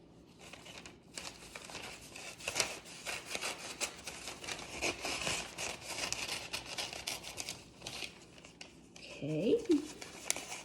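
Folded paper being cut with scissors while making a gift bag: quiet, scattered snips and rustling crinkles of paper at close range, with a few sharper handling sounds near the end.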